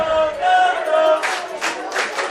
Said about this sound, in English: you could hear this crowd is riled up